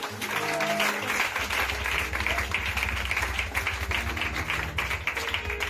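A church congregation claps continuously, a dense and fairly loud applause that holds steady throughout with a faint low musical hum beneath.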